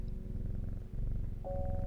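A cat purrs when petted in the video game Strange Horticulture, a soft, low, continuous rumbling purr, close and steady, with a faint electronic tone entering near the end.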